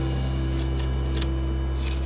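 Scissors snip through cardboard while a robot hand is being built from cardboard, a close, steady run of cutting and rubbing noises over a constant low hum, with no voices.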